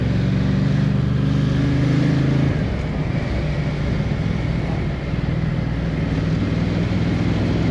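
A Ducati XDiavel motorcycle accelerates along a road, its engine rumbling low and steady with a deep drone that shifts pitch partway through, heard close with wind noise and no talk.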